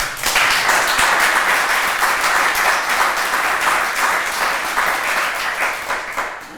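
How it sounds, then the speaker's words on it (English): Sustained, dense audience clapping follows an introduction at a talk, steady and close throughout before easing slightly at the end. "Another round of applause."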